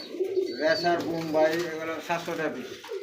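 Racing pigeons for sale, red checker and black birds among them, coo in soft throaty rolling calls close by, with someone speaking in Bengali over the cooing throughout.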